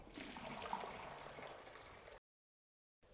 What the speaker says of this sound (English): To dump the recovery tank on your Sabre cutter, simply remove this hose,